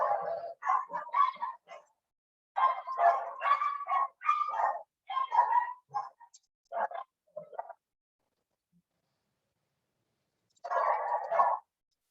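Several dogs bark in bursts, close and loud, in irregular volleys across the first eight seconds, then fall quiet before one last burst near the end.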